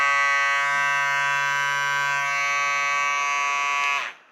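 Electric nail drill running at its turbo speed setting, a loud, steady high-pitched whine that holds for about four seconds before winding down, close and alone.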